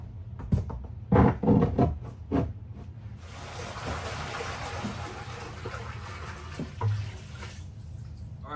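Water pours into a 5-gallon tub in an Argus monitor lizard's enclosure, a steady splashing rush up close. A few louder knocks and clunks come first, before the water starts.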